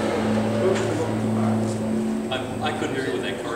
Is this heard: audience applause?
no